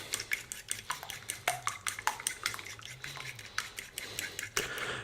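A raw egg is beaten with a pinch of salt for an omelette, a quick series of fork taps clinking against a bowl in an uneven rhythm, close but fairly soft, with no talking.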